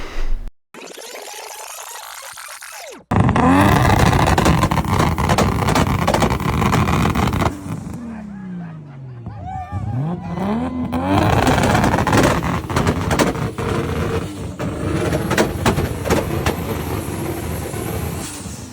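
A 1993 Toyota Supra with a 1000 horsepower 2JZ engine and flamethrower setup, heard in loud bursts of revving and sharp pops, with a cut to quiet, then rising and falling engine roar and crackling.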